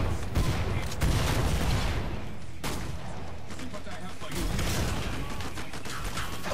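Gunfire in the video game Killing Floor 2 comes as dense, continuous bursts with sharp louder shots breaking through. Players talk over the shooting throughout.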